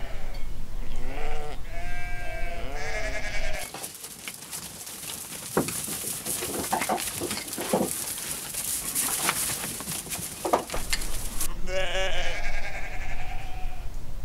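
Sheep bleating close by in several quavering calls, first alone, then mixed with a noisy burst of scraping and clattering, before the bleats return clearly at the end.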